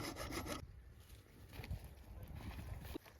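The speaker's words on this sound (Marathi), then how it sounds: "तर तुम्ही बघू शकतात हे आपले शेतकरी मित्र जे आहे ते इथे पाईप कापीत आहे" A farmer cutting a pipe by hand near a burnt-out 5 HP water pump motor on a farm, a rough rasping saw stroke repeating close by at a steady rhythm.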